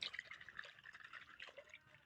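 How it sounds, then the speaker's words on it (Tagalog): Rainwater is emptied from a chicken's water container at a backyard poultry yard, giving a faint, continuous trickle and dripping splash that runs steadily for a couple of seconds with no talking. "Tatanggalin natin yung tubig niya kasi galing ito sa ulan eh."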